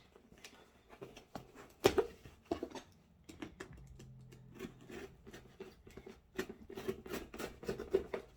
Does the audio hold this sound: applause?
no